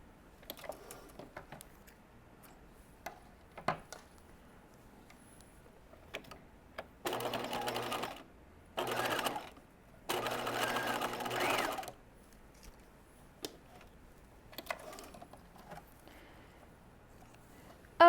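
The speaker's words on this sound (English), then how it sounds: "And I'm going to switch to using a straight stitch here." A domestic sewing machine runs a straight stitch on cigarette trousers, sounding in three quiet bursts of rapid, even needle chatter separated by pauses, with soft handling clicks and rustles between them.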